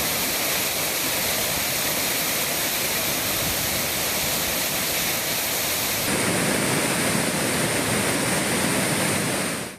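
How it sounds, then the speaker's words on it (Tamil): Courtallam waterfall in flood after overnight rain, a dense continuous roar of heavy falling water that stays loud and steady throughout, its tone shifting slightly partway through. "இன்று காலை குற்றால அருவியில் வெள்ளப்பெருக்கு ஏற்பட்டது"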